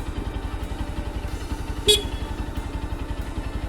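A Lifan KP200 motorcycle sounds one short, bright beep of its horn over the steady, chugging rumble of its idling engine.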